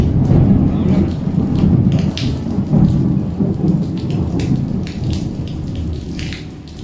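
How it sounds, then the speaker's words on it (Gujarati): Rain pours steadily at night while thunder cracks and rumbles repeatedly close by, loud booms rising over the hiss of the downpour. "વીજળીના એવા કડાકા થાય ને, જો આ કડાકા કડાકા સાંભળો"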